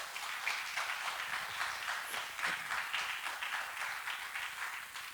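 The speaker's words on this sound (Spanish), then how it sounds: "Denle un fuerte aplauso ahí al Señor." A church congregation claps together at a Thursday general service, a steady, dense patter of many hands that holds at an even level throughout, with no voices over it.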